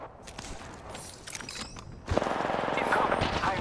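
Rapid automatic gunfire from an Apex Legends ranked match: a burst of sharp cracks at first, then a dense, louder stretch of sustained firing that runs to the end.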